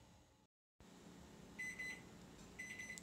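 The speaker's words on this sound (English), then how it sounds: "That's my 20-minute timer." A faint electronic kitchen timer beeps in two short bursts of rapid high chirps over a quiet hum, after a brief moment of silence.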